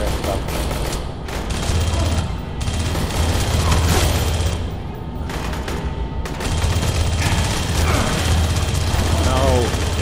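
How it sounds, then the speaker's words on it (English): Dense, sustained gunfire in a video game, continuous automatic bursts and booms filling the whole stretch, loud and close, with voices talking underneath. "Who's shooting me?"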